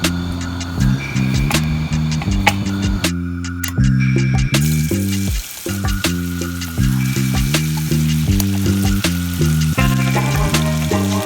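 Chicken fried rice frying and being stirred in a pan at a camping spot near Gartmore Falls, Sri Lanka: steady loud sizzle with repeated clanking strikes of a utensil against the pan, no talking.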